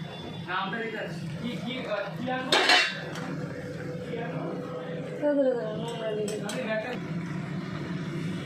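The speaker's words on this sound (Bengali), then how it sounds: "টমেটোগুলো দিয়ে আমি এবার নাড়বো" Tomatoes being stirred into methi chicken in a kadai, with metal spoon clinks and scraping against the pan and a louder clatter partway through, while a person talks throughout.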